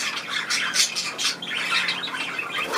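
Pet budgerigars squawk and chirp in bursts, close and fairly loud, harsh calls coming in quick overlapping clusters with no talking over them.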